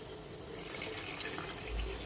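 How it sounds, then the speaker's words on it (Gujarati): Milk poured into bottle gourd halwa cooking in ghee gives a brief, fairly quiet, steady liquid stream sound, close by, with no talking. "હવે આમાં આપણે દૂધ ઉમેરીશું"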